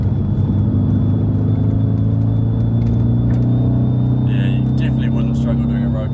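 A 6-speed manual Audi RS4 B7 gives a steady, loud, low engine rumble from the cabin while driving, with road noise underneath and people talking over it.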